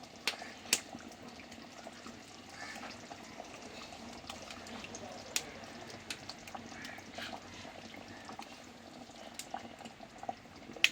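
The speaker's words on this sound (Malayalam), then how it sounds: "തിളച്ചിട്ടുണ്ട്." Kerala-style avoli fish curry bubbling in a pot, a continuous low simmering burble with scattered sharp pops and clicks, close and fairly quiet, no voices.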